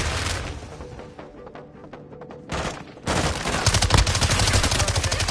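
Gunfire in the Call of Duty video game, dense bursts of automatic shots at loud, close range, thinning to scattered pops before a heavier sustained volley resumes.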